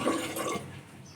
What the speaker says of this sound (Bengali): তো এখানে পরিমাণ মতো পানি দিয়ে দিচ্ছি।